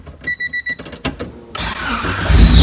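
A Honda Civic EG with a D16Y8 engine and a new AEM fuel pump starts up: ignition chimes beep, the starter cranks briefly, then the engine catches and revs rising loudly nearby.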